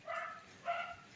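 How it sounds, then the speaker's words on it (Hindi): Street dogs bark faintly in the background, two soft, distant barks separated by a short pause. "देखिए बैकग्राउंड में गली के कुत्तों की आवाज़ आ रही है।"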